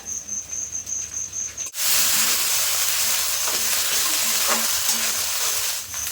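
Ginger-garlic paste hits hot oil with lightly browned onions, bursting into a loud, steady sizzle and frying hiss after a faint, quieter start.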